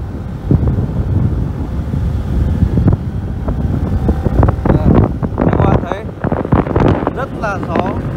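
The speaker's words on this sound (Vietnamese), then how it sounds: "Hiện tại là đang bão, vì thế mà gió rất là to." Strong storm wind in the mountains of the Đồng Văn border region roars and buffets the microphone in heavy low gusts, while a voice talks over it.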